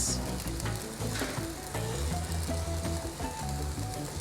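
Green onions and red peppers sizzle steadily in a hot pan while pasta is cooked, a continuous frying hiss with some clattering and tonal music-like sounds mixed in throughout.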